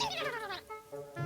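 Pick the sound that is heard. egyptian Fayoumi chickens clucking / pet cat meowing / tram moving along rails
pet cat meowing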